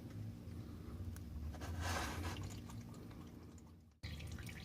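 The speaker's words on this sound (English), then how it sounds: "So we're going to let the oil drain for a little bit." Motor oil drains from the oil pan of an Infiniti G20 in a steady, soft pouring trickle that swells slightly midway and cuts off abruptly near the end before resuming.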